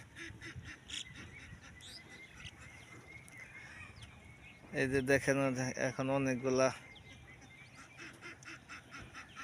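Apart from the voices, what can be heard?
flock of ducks quacking by a field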